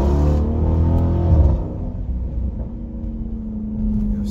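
A car engine rumbles steadily at close range during a nighttime cruise, with a brief rev swell early on before settling into a low, even drone.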